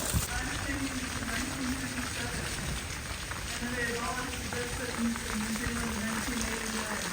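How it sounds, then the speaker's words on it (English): Steady patter of rain falling on an umbrella while walking outdoors in the grounds of the historic Napier Prison in New Zealand, a continuous close hiss with a low murmur of voices underneath. "I'm walking in the rain with an umbrella"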